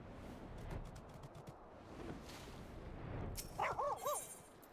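Mega Shiba Inu dog barking in Final Fantasy XIV, a quick run of several short game-sound barks near the end, heard over a busy background of game ambience and effects.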